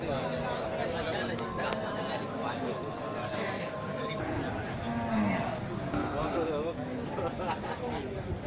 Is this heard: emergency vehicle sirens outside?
no